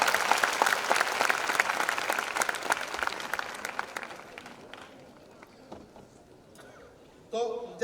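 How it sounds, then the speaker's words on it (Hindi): Loud, dense applause from an audience welcoming the chief guest at an inaugural literary ceremony. It sustains for about four seconds, then thins and fades, with scattered claps lingering before a brief burst of other sound at the end. "चीफ गेस्ट फिरहाद हकीम साहब यहाँ आ गए हैं, उनका खैर मकदम जोरदार तालियों से किया जाए"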